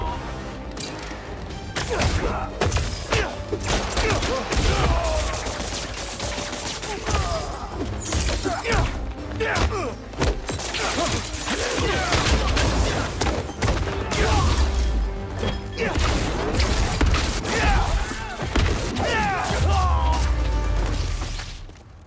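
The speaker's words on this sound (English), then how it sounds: "The fireworks! They're lit!" Fireworks crates igniting during a street fight in Marvel's Spider-Man 2, a long run of cracks, bangs and crackling bursts layered with shouting voices and game action.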